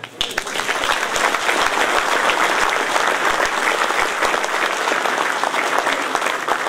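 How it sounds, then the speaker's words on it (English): An audience at an evening talk with motorcycle racer Michael Dunlop claps loudly and continuously, dense many-handed applause holding steady from start to finish. "I think you could give them a bigger round of applause than that."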